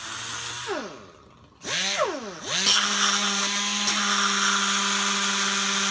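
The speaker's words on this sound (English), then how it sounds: "I'll just grind on it for a while until I get it shaped out roughly" A power grinder whines as it spins down and back up, then settles into a steady high-pitched grinding hum shaping a metal motorcycle brake lever, loud and close with no voices.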